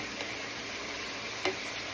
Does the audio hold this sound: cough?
no